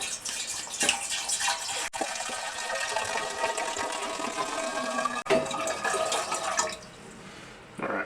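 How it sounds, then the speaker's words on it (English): Clean water poured into a GrowlerWerks uKeg to rinse the nozzle and lines, a steady close-up splashing and gurgling fill that runs for several seconds before easing off into a thinner trickle. "So we'll put about a half gallon of water in there."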